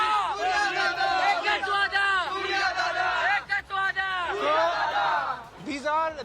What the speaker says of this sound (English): There's a special cheer for Mumbai.